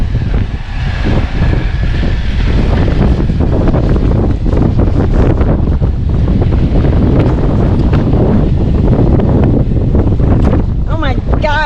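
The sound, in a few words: strong wind in a desert dust storm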